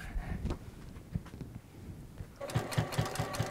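A sewing machine stitches quilt fabric for a fish block along a curve, starting with a softer intermittent run and then breaking into a louder, fast rhythmic whirring chatter near the end, close up.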